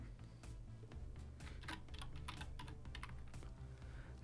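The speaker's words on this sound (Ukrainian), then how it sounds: "Тепер ведемо правильний пароль Python." Typing on a computer keyboard, a quick run of light key clicks in an irregular rhythm over about four seconds, close and fairly quiet with no voices.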